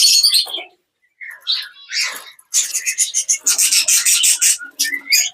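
Rainbow budgies chirp and twitter in short, bright bursts, with rapid close chatter and brief pauses between calls.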